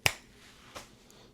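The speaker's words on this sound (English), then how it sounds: "when I snap my fingers, we'll cut back to me dressed and ready for the gym" A single sharp finger snap, close and crisp, followed by a fainter click in an otherwise quiet room.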